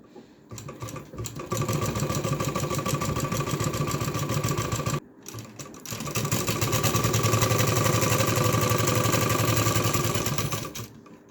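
A sewing machine stitches fabric to attach a button placket, running in two steady bursts of rapid mechanical clatter with a brief pause between, close and alone.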